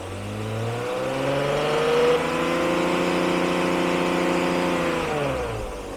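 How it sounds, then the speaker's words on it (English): A 1999 BMW E36 M3 convertible's engine revs up from a low idle to a higher, sustained smooth pitch, holds there, then eases back down toward idle, heard close with no talk. "And we'll go up a little bit more."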